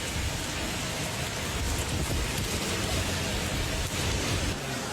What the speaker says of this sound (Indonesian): Hujannya masih deras.